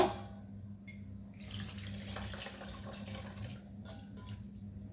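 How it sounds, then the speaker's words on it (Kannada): Water streams steadily from a tap over flattened rice (poha) in a bowl for rinsing, a continuous close splashing rush throughout with no talk. "ಪುನಃ ಅವಲಕ್ಕಿಗೆ ನೀರು ಹಾಕ್ತೇನೆ ನಾನು"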